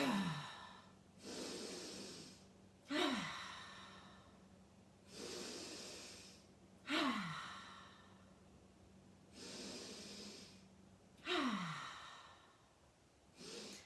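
Slow, deliberate breaths during gentle shoulder shrugs, with alternating inhales and long sighing exhales at an even pace, close and soft, with no talking.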